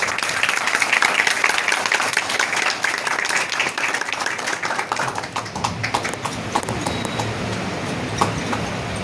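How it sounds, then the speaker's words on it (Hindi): Loud audience applause at a seminar as a guest is welcomed, dense, sustained clapping close by that fills the whole stretch, with some talk mixed in. "एक जोरदार ताली"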